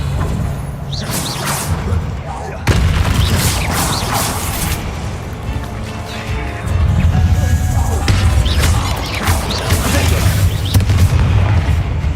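A Confringo blasting spell explodes in Hogwarts Legacy: loud, close booming blasts and crashing impacts in a catacomb, with brief talk and game sounds between the bursts.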